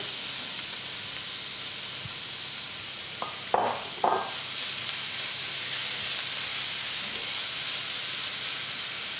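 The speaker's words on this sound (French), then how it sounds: "on va commencer à mettre donc les oignons à revenir" Onions frying in a pan give a steady, even sizzle throughout, broken briefly by a few clinks and scrapes from a utensil near the middle.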